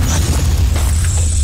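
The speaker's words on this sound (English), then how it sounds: "EMP grenade." A single deep, loud boom from an EMP grenade going off in Batman: The Telltale Series, with a low rumble and fizzing hiss that carry on to the end.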